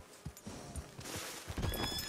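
A horse whinnies loudly over a busy Red Dead Redemption 2 game soundscape, with hooves clopping around it.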